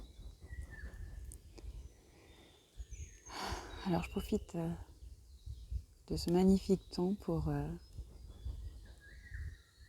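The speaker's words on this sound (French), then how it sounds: "écouter les oiseaux." Birds sing outdoors in fine weather, faint chirps and tweets scattered in the background while someone speaks French close to the microphone.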